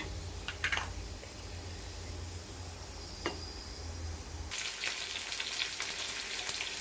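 Mustard seeds and a pinch of fenugreek spluttering in hot oil, a continuous close sizzle with a few sharp pops, turning noticeably louder and brighter partway through.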